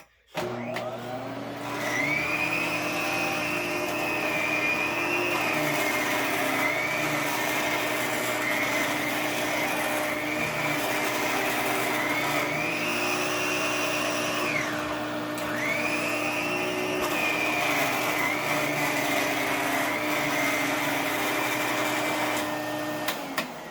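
An Electrolux Epic stick vacuum cleaner runs with a steady, loud whirring drone and a high whine that dips briefly a few times, sounding slightly rattly, with no talking.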